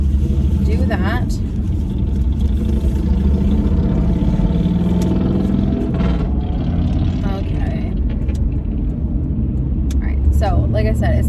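Car driving along a familiar commuting road, heard from inside as a steady, loud engine and road rumble throughout, with occasional rises in engine pitch and a person talking over it at times.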